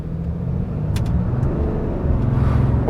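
A 2023 Ram Rebel 2500 diesel pickup on all-terrain tires pulls away from a stop, a steady loud engine rumble building through a short run with a brief higher whine partway.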